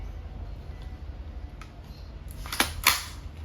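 A Crosman A4-P CO2 airgun firing steel balls in semi-automatic mode, two sharp, separate cracks close together over a low steady background hum.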